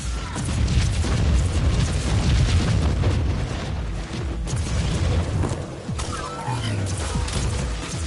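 A grenade explosion booms amid a loud, continuous battle roar in Warhammer 40000, heavy low rumble and crashing debris filling the scene, with a voice partly under the din.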